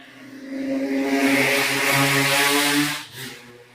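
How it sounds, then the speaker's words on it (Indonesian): A motorcycle engine passes close by, its droning hum swelling loudly for about three seconds before dropping away. No one speaks. "Suara motor itu"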